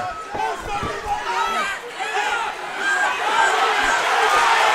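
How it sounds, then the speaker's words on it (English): Fight crowd at an RFO Big Guns MMA bout roaring and cheering wildly, a dense, loud, sustained wall of voices that swells toward the end, with an announcer talking over it. "And the crowd has gone absolutely crazy."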